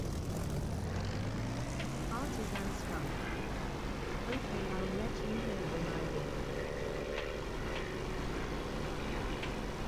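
A tail-dragger propeller aircraft engine roars at full throttle on take-off in the DCS flight simulator game, a loud continuous drone with rising engine tones and an airfield fighting scene building around it.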